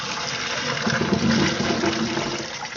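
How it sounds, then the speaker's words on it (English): Hot water poured from a pot through a colander, a close, full gushing splash of liquid lasting a few seconds. "So what I do is I put the colander in this way and pour it out."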